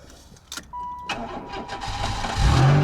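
An older car, taken apart and reassembled, cranks briefly after a few soft clicks, then its engine catches and rises into a rough idle near the end.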